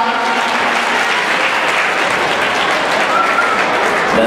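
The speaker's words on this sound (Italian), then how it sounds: "Applausi!" Sustained, loud audience applause fills the air at a youth hip hop dance competition as a group is introduced, dense and steady throughout with no gaps.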